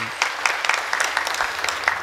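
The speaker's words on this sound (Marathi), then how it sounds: "एकदा जोरदार टाळी वाजवा आमच्या भाऊ करतो मस्त" An audience at a kirtan performance in Girnare claps: a brisk crowd of sharp, overlapping hand claps, fairly close and steady for a couple of seconds, with no talk.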